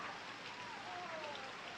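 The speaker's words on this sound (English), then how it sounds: "Yes, it's raining." Rain falls steadily outside a mansion at night, a faint, even hiss of drops with a soft whistling tone drifting through.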